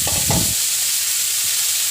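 Onion fries in a pan for Assamese tenga sour curry as sour leaves go in; two quick scraping stirs open onto a steady close sizzle that settles into a soft hiss.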